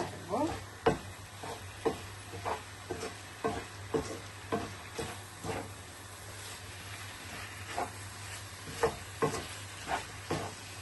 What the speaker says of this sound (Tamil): நான் இப்போ கொஞ்சம் ஃபயரை கூட்டி இதை எல்லாத்தையும் போட்டாக்குறது நல்லா மிக்ஸ் பண்ணி எடுத்துக்கிறேன்